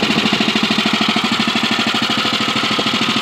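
A 50-year-old Snow Flite snowblower from 1972 or 1973, running on fresh winter gas, putters close and loud in a steady, even rhythm of quick engine pulses, with no voices.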